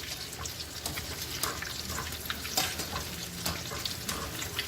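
Potatoes fry in hot oil with a steady, dense crackling sizzle throughout, stirred and turned now and then, with faint clinks.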